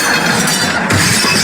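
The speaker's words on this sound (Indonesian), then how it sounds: "Pecah semua piring gara-gara aku." Plates shattering on a hard floor, a loud burst of breaking crockery with clinking shards that fills the short moment.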